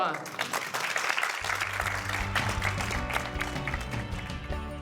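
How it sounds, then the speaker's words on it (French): Members of a large family with seven children applaud themselves at home after a shared dance activity, steady clapping running throughout beneath voices and a tonal background. "Vous pouvez vous applaudir"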